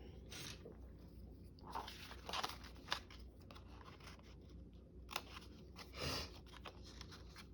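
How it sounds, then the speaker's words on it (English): Scissors cut a paper star out of a junk journal page: a few faint, short crunchy snips and crinkles spaced across a quiet background, with no talking. "this is just making it easier to cut out the star"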